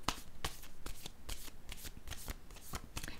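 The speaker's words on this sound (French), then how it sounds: "Je vais piger une carte sur la sagesse." Tarot cards being shuffled and drawn during a reading: a steady, close riffling patter of card edges with rhythmic flicks roughly twice a second, continuous throughout.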